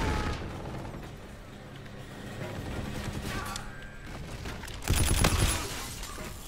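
Call of Duty gunfire crackles in bursts, with scattered shots at first and then a loud, dense volley near the end, amid game noise.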